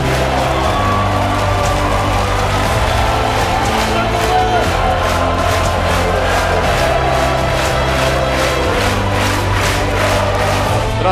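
Crowd at a volleyball championship celebration for ZAKSA's Polish title, cheering and clapping loudly and continuously with rhythmic chanting bursts, a dense wall of noise throughout.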